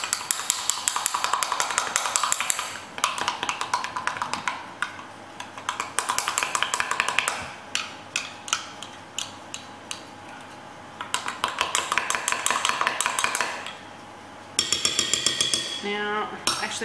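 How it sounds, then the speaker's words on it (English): A keto freezer-meal mixture with cream and salt is stirred in a bowl. Quick, rhythmic clinks and taps of the utensil against the bowl come in bursts with short pauses. "Now I'm just gonna mix it around."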